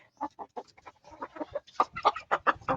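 Chickens from a Brahma and Rhode Island Red cross cluck close by in a quick series of short, choppy calls that grow louder and denser toward the end.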